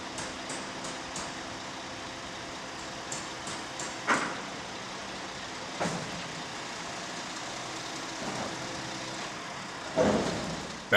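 A truck lowers an empty construction silo. A low, steady mechanical hum carries faint clanks and thumps at intervals, then a louder clunk near the end, heard at moderate distance with no talking.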